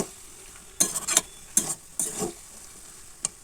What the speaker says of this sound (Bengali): এই মশলাটা দিয়ে ভালো করে নাড়াচাড়া করে